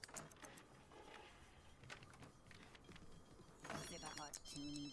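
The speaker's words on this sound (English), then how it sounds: "Somebody else is calling me on the phone?" An in-game telephone rings in The Sims 3, a bright electronic ring surfacing near the end amid busy game sounds and music, with a person talking over the scene.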